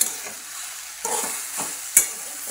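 Dal with hadga (agasta) flowers is stirred in a pan, with a soft sizzle and a few scraping stirs of the spoon, close up and without voices.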